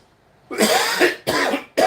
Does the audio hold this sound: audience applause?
no